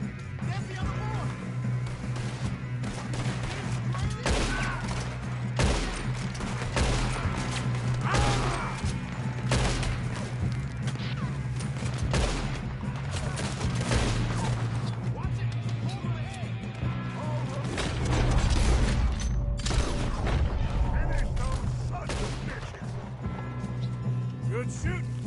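Repeated gunfire rings out in Red Dead Redemption 2, sharp shots cracking at irregular intervals through a long firefight over a low engine-like drone, with voices shouting between them.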